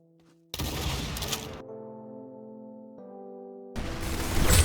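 Rapid automatic gunfire from the Roblox shooter game Arsenal bursts out loud and dense, breaks off for a tonal in-game sound, then resumes in a second heavy burst near the end, with no talking.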